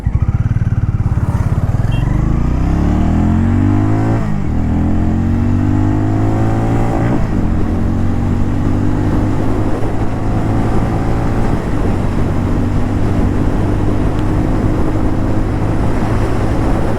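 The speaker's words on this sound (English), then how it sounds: "So that's how this engine reacts when you open the throttle completely." A Hero Mavrick 440 motorcycle engine held at full throttle, loud and steady with rising harmonic sweeps as it climbs through the revs and shifts gears, vibrating past 4000 RPM with no talk over it.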